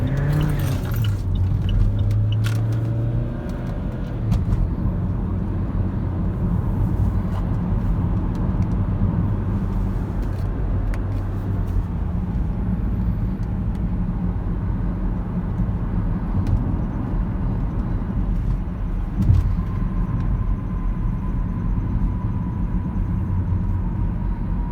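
A 2008 Saab 9-3 SportCombi accelerates on a night drive at half throttle, its engine a steady low drone with road and tyre roar. The sound holds loud and close from inside the cabin for the whole stretch.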